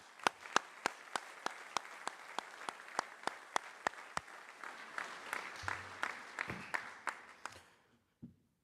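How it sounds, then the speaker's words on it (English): A commissioning ceremony audience applauds families with sharp, rhythmic claps that build into scattered applause from a medium-sized crowd in a hall, then fade quickly to near silence at the end. "Let's give them a big round of applause"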